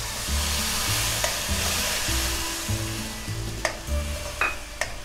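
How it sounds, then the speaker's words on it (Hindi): Tomato puree and masala frying in oil in a kadai for dal makhani, a steady close sizzle with stirring scrapes and a few sharp utensil clicks toward the end; no one talks. "टमाटर को अच्छे से भून लेना है, जब तेल छोड़ने लगे तो समझो पक गए।"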